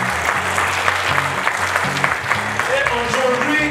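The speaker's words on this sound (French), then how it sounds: "Je voudrais vous demander d'applaudir très fortement tous ces lauréats qui sont là" Award laureates and leaders receive applause from the audience at a ceremony, with a dense burst of clapping over music and some voices.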